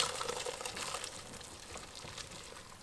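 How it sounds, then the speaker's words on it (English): Hot pasta water is poured from a pot into a kitchen strainer, making a steady, close rush of splashing liquid that runs for a few seconds and fades slightly toward the end. "What I'm going to do is I'm going to pour the hot water in there so we can get all the pasta."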